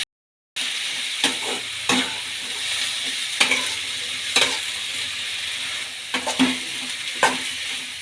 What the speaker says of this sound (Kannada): ಈಗ ಹೂಕೋಸನ್ನ ಸೇರಿಸ್ಕೊಳ್ಳೋಣ. ಇದಕ್ಕೆ ಈಗ ಕೈ ಆಡಿಸ್ಕೊಳ್ಳೋಣ.